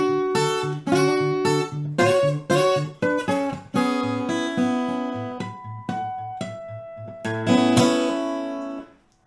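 Acoustic guitar playing the pre-chorus of a piece, a fingerstyle passage of plucked notes and chords ringing out clearly and steadily, close and solo with no voices.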